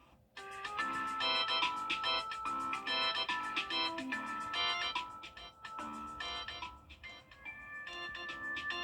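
The iPhone ringtone, a bright, plinking marimba-style cheerful repeating melody, clear and alone with no talking.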